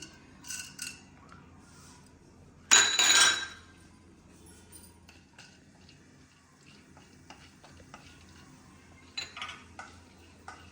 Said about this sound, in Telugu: ఒక చెంచా ఆయిల్ వేసేసుకొని కొద్దిగా వేడవంగానే శనగపప్పు అన్నీ ఒక్కొక్క స్పూన్ చాలు సరిపోతుంది